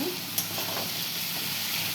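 Potatoes, chopped onion and ridge gourd fry in a pan with nigella seed, chilli, Kashmiri chilli powder and turmeric, making a loud, steady, close sizzle with one faint click near the start and no talking.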